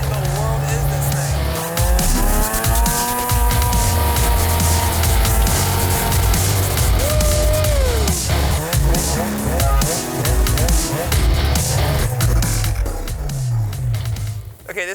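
A snowmobile making a high-speed run across open water, its engine roaring loud and close throughout with rising and falling pitch as the throttle changes, along with spray and rushing noise.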